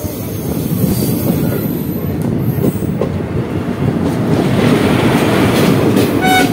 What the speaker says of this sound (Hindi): अभी जवालपुर से हम जो है डिपार्ट ले रहे हैं, सामने से कोई ट्रेन भी आ रही है